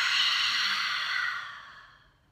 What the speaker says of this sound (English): pushing it out through your mouth, and make a really audible sound this time